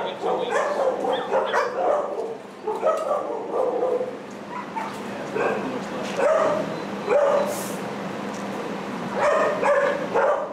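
Several roughly seven-week-old Chihuahua-mix puppies yip, whimper and bark in short, high-pitched bursts that repeat throughout, close by, with people talking at times in the background.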